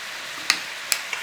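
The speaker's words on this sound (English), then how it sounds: "Nice little sizzle whizzle on this chicken." Chicken pieces fry in a pan for a creamy chicken and potato dinner, giving a steady bright hiss of sizzling broken by three quick sharp ticks.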